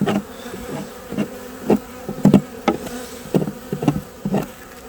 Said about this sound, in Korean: 이 벌들이 예민해서 이렇게 조그만 충격에도 난리를 피웁니다